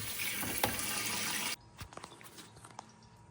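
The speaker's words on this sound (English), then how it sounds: "I'm just going to do this with cold water and soak them for a little while" Cold tap water gushes steadily into a sink to soak prickly pear cactus fruit, a loud continuous rush that cuts off abruptly partway through, leaving faint drips and small clinks.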